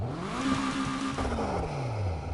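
A 3.8-liter engine in a tuner car from the racing game Need for Speed Heat revs up, holds a steady high note, then drops away. The sound is close and fairly loud, and no one speaks.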